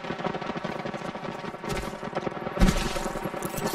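Gunfire in the video game Apex Legends comes as dense bursts of rapid automatic shots, loud and continuous, with a heavier blast near the end.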